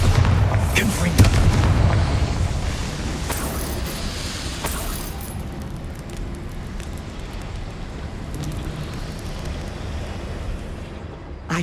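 Spell blasts from Bombarda and Confringo burst in Hogwarts Legacy. A few heavy booms land in the first seconds, followed by a long rumbling, surf-like roar that slowly fades, with a couple of faint cracks later.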